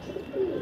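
Soft, low pigeon cooing in a brief rolling phrase, fairly close and steady, with faint background hiss.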